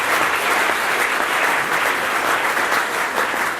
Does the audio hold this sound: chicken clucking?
no